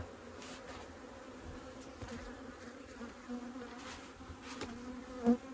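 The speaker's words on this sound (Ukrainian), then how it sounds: "Бджоли сьогодні злі" Soft, continuous buzzing of many bees, with a few louder passes as individual insects fly close.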